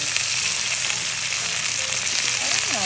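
Vegetables and garlic sauté in a hot pan with a steady, loud sizzle and crackle of frying oil, unbroken throughout, with no talking.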